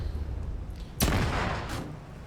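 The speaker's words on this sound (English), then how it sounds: "And the explosion gets a few guys as they jump out." An anti-tank rocket strikes a truck in a military shooter game, a sudden loud blast that bursts in after a low rumbling lead-in and rolls on with a long crackling decay and a second flare near the end.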